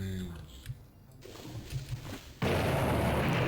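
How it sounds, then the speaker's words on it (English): An explosion in the video game Bloody Pulp Fiction: Monolith erupts as a sudden loud blast that settles into a sustained roaring rumble, following a few quieter thuds and pops while someone talks. "Oh, that's not the explosion I"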